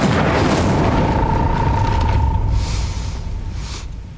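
The Incendio fire spell is cast in a Harry Potter video game with a loud, deep whooshing roar that holds steady, then fades over a few seconds while brief airy flares rise and trail off.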